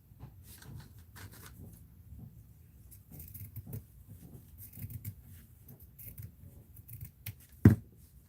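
Scissors snip through fabric in a series of soft, close cuts with faint rustling between them, quiet overall, ending in one sharper louder snip near the end.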